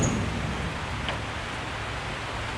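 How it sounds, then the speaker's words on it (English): Soft, steady patter of rain falling on plastic sheeting, a continuous hiss close by with no voices. "you can hear the rain on the plastic."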